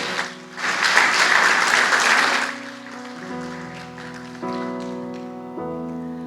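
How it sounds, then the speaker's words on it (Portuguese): A church congregation applauds the actors of a Christmas nativity play at a special service, a dense burst of clapping for about two seconds that fades as sustained organ or keyboard chords take over. "Vamos aplaudir os atores?"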